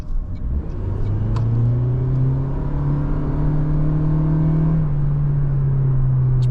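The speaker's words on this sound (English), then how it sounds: "I'll listen to this acceleration." A 2026 Toyota Prius AWD Limited accelerates in sport mode, heard from inside the cabin as a steady, smooth rising engine hum and whir under road noise, with no talking.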